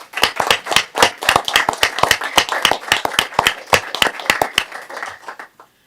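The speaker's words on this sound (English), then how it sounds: "Let's give them a round of applause, please" Audience at a city council regular session claps hands in a steady, fairly close round of individual sharp claps lasting several seconds before tapering off, with no talking over it.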